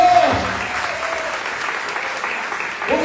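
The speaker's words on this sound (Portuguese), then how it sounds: "Aplauda o nome do Senhor." At an Easter church service the congregation applauds loudly and continuously, with a voice briefly audible at the start and end over the steady clapping.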